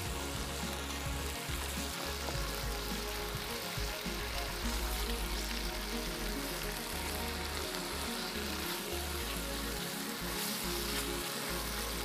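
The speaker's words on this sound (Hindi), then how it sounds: "थोड़ा भूनने के बाद इसमें शामिल कर देंगे कीमा।" Minced meat (keema) fries in a pan with green chili paste, giving a dense, continuous sizzle that crackles loudly and steadily throughout with no talk.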